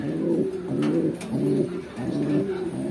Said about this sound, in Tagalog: Tamang subo lang yung ating breeder. Sa kanilang malulusog na young bird.